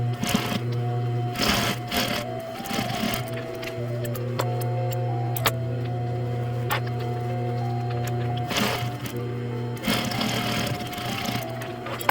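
A sewing machine runs steadily throughout, stitching fabric for a coat, its close mechanical hum and rapid needle ticking carrying on with brief pauses and restarts.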